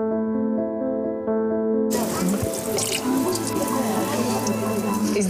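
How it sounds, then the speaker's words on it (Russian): Water runs steadily at the holy spring of Saint Nino in Georgia, a pilgrimage site; a low humming tone comes first, then a full, continuous splashing flow takes over. "Паломники всего мира приезжают сюда набрать воды и омыться в целебном источнике святой Нино."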